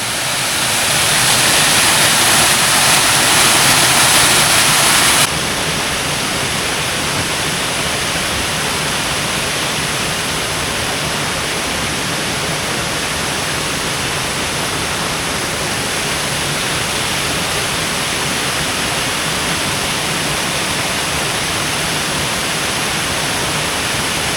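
A steady, roaring rush of a waterfall across a river fills the air, loud and unbroken throughout, with a brighter hiss in the first few seconds.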